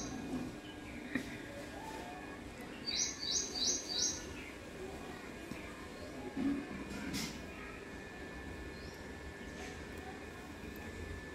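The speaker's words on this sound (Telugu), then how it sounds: "చిన్న చిన్న పిట్టలు కూడా చాలా ఉంటాయి. ఇక ఊర పిచ్చుకలు అంటారు ఇవి." House sparrows chirp from a tree in the morning, a short burst of four quick high tweets followed by a faint lone call, fairly distant over a quiet hum of background noise.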